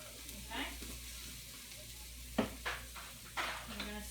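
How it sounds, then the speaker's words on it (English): Turkey bean chili gets stirred in a pot, soft background sizzle broken by several scraping, clattering spoon strokes against the pot, quiet and close. "I'm going to stir that up good."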